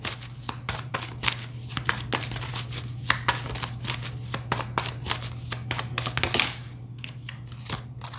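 A deck of astrology cards is shuffled by hand nearby, a quick run of crisp riffling slaps and flutters repeating in an even rhythm over a faint steady hum.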